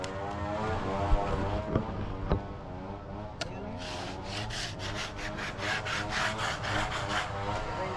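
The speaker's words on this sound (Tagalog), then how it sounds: "Yan. Grinder" Power grinder working on a wooden boat being prepared for painting inside and out, a steady loud abrasive whir and rasp running throughout with a few sharp knocks early on, close by and with no talk.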